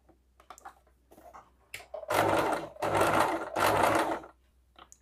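A sewing machine stitches piping in three loud sustained bursts of running, separated by brief pauses, with faint handling noises before the first burst.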